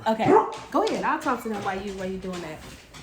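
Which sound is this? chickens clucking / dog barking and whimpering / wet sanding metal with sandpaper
dog barking and whimpering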